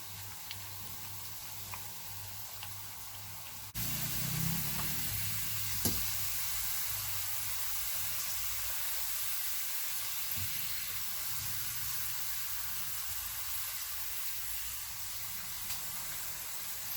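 Homemade potato chips fry in olive oil with a faint, steady sizzle and hiss that grows a little louder partway through, alongside occasional soft clinks and stirring sounds.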